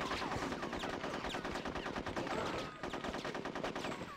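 Rapid automatic gunfire in the video game Conker's Bad Fur Day, a dense rattling stream of shots that runs almost continuously with a brief gap partway through.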